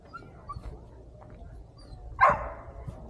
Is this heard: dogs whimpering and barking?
yes